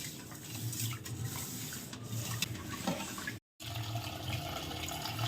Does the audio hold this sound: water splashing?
yes